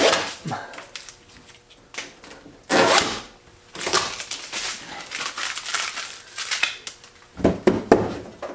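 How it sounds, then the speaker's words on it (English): Tape is peeled off a car body panel on a V8 R34 Skyline four-door being fitted with a GT-R widebody, sounding as several loud crackling tears and crinkles in bursts, close up, with short gaps between pulls. "Now we can peel off the tape"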